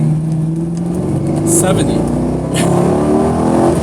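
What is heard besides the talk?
car stock exhaust revving while accelerating hard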